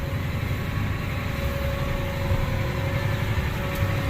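A 2012 tractor engine runs at a steady idle, a continuous low rumble with a faint mechanical drone holding even and close throughout.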